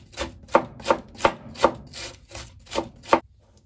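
A knife chops cabbage finely on a board for red enchiladas, with about nine even, crisp strokes in a steady rhythm, close and fairly loud, and no voices.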